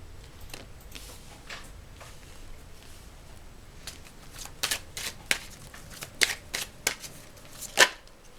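Tarot cards shuffled and drawn by hand, a run of soft papery riffles and slaps that grows busier and louder toward the end, with a sharp snap near the close.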